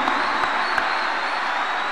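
A church congregation claps in steady, dense applause that fills the room evenly, with a faint murmur of voices beneath it.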